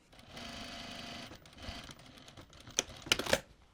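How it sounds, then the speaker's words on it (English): Domestic sewing machine edge stitching the placket opening on a two-piece sleeve: a steady, fast mechanical whir for about a second and a half, then shorter runs and a few sharp clicks, up close. "Now we're going to edge stitch this placket opening."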